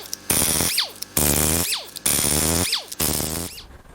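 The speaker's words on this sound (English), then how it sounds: "Now it's time to pull the head bolts out" A ratchet wrench breaks loose and backs out head bolts on a Mazda 2.3L turbo MZR engine under teardown, four close bursts of rapid clicking, each ending in a rising squeak, with short pauses between them.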